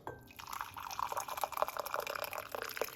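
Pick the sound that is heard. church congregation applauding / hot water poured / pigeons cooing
hot water poured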